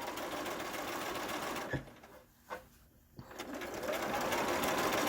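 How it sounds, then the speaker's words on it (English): Sewing machine stitching a fabric mask seam along the edge, a steady continuous whir that pauses briefly in the middle with a few soft clicks as the fabric is shifted, then resumes running. "I'm going to keep sewing right along that edge."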